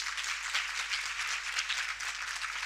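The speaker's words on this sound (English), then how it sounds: "we can again give a round of applause to this wonderful woman" Conference audience applauding steadily throughout, a dense even wash of many hands clapping at moderate volume with no voices on top.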